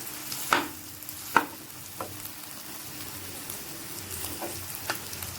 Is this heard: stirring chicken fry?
yes